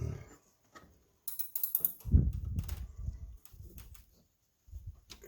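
Metallic clicks and ratcheting clanks from a tension pulley being loosened so a belt can be fitted, coming in short irregular bursts with quiet gaps, close by and with no talking.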